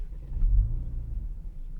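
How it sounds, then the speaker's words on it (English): The engine of a Kia Stinger GT2 all-wheel-drive sedan with an 8-speed automatic rumbles low and steady from inside the car, swelling briefly before settling into a constant drone. "about to take the GT2 Kia Stinger for a quick spin"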